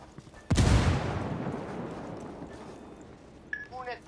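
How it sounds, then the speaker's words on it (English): A frag grenade explodes in the video game Ghost Recon Wildlands, a sudden heavy close blast with a long rumbling decay, followed by a short radio-like voice and chirping effects near the end. "Una explosión ha sido detectada."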